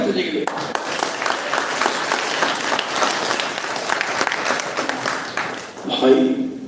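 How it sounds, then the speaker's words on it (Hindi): A congregation at a Hindi-language church service claps for the pastor, a steady mass of applause with voices mixed through it and someone speaking at the start and at the end. "ताली बजाओ पास्टर जी के लिए"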